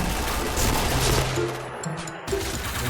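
Rapid bursts of automatic gunfire in the online shooter Point Blank, crackling shots and echoes mixed with game noise, close and loud, cutting off abruptly near the end.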